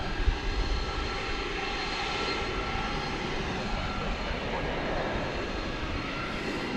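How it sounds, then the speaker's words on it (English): An airliner arriving from Santa Ana, California, at night at DFW gives a continuous, moderately distant engine rumble and whine, fairly even in level throughout. "Check out a flight coming in from Santa Ana, California."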